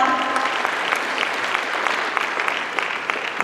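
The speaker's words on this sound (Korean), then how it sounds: "지방정부의 미래를 위해 다같이 뜨거운 박수 보내주시기 바랍니다" Warm, steady applause from an audience at the launch ceremony of a special local government alliance fills the room, dense and even throughout with a few sharper claps standing out.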